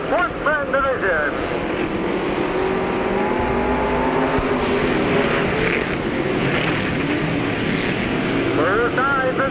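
Sportsman division race cars roar around Peoria Speedway in a heat race, a continuous loud engine drone with passing revs rising and falling over steady crowd and track noise.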